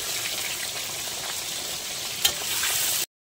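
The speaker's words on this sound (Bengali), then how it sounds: "এবার দিয়ে দেবো আমি উচ্ছেগুলো, ভালো করে একটু ভেজে নেব।" Bitter gourd fries in hot oil with dried red chillies, bay leaves and five-spice in a pan, giving a steady close sizzle with a brief stir clatter before it cuts off abruptly.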